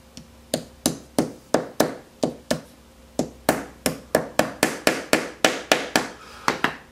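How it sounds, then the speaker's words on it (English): Hammer taps wooden dowels into drilled holes for a pencil sharpener mount, giving about twenty sharp, close knocks in an uneven rhythm with brief pauses between clusters. "I'm just going to tap these little piece of dowels into the holes"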